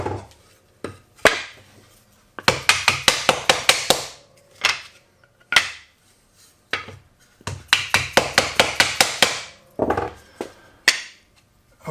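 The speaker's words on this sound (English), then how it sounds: "I find the easiest way is with a dead blow hammer" Sharp, dull dead blow hammer blows strike wood in rapid bursts of several hits each, knocking wooden joints apart, separated by brief pauses, loud and close.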